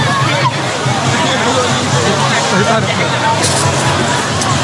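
Loud splashing and sloshing water mixes with a dense, noisy crowd babble, constant and close, as people soak each other outdoors in a Songkran water fight in Bangkok.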